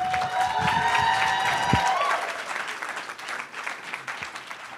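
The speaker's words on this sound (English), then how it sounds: "So I want you to give a round of applause for Layla Parrish with Sugar Babes Beauty." Audience applause and some cheering at a business pitch event, a loud, dense burst of clapping from a room crowd with a brief high tone over the start, then thinning out and fading.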